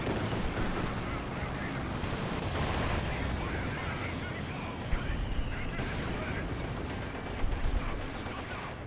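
Machine gun fire in Company of Heroes 2, a 2v2 World War II strategy match, rattling as a dense, continuous battle din with artillery-like booms, all running steadily under excited talk from players.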